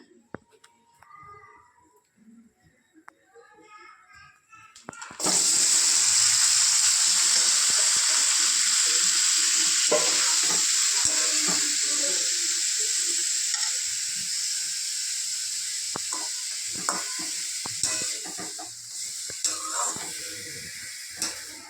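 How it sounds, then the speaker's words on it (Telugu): Sliced ridge gourd and tomatoes hit hot oil for a Telugu ridge gourd tomato chutney, setting off a sudden loud, steady sizzle that fades only slightly, with faint stirring scrapes and quiet sounds before it starts. "ఆయిల్ హీట్ అయిన తర్వాత మనం కట్ చేసి పెట్టుకున్న బీరకాయ టొమాటోస్ దీంట్లో యాడ్ చేసుకుందాం."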